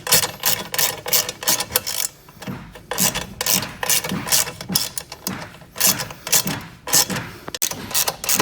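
Bolts tightened during assembly of a 1300 W electric ATV, a close series of rapid ratcheting clicks in bursts with short pauses between turns.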